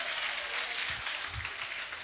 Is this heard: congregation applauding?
yes